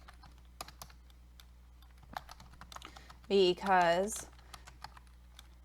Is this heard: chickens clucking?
no